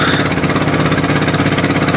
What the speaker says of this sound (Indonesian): Menggiling padi tidak harus pergi lagi ke tempat penggilingan padi, tetapi sudah mesin berjalan